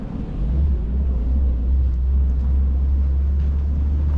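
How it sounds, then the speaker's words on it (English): A crane truck drives down the road with a loud, steady low rumble that holds evenly throughout, with some wind buffeting and no voices. "there's our crane coming down the road"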